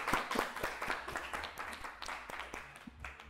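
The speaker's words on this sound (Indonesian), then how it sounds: "Berikan aplaus dulu bagi kelompok 3." Classroom applause for a student group that just presented: a steady patter of many hands clapping fairly softly for about three seconds, with little talk.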